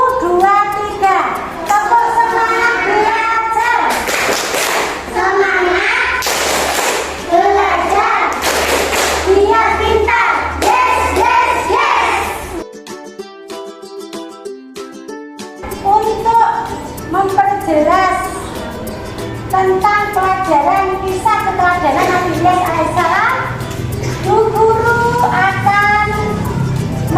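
A class of children chanting loudly together while clapping in rhythm, sharp hand claps punctuating the voices, with a brief pause midway before the chanting and clapping resume.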